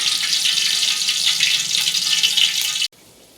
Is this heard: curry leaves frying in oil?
yes